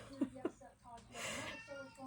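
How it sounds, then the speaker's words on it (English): Two short, muffled meows sound from a little distance, followed by soft talking close by. "And if you can hear that cat in the background meowing,"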